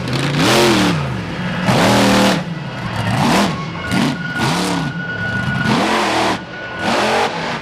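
A 4x4 truck engine at an off-road competition revs hard in repeated surges, rising and falling about five or six times, loud and close with no talk over it.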